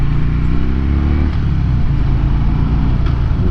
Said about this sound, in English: so you're gonna roll on the throttle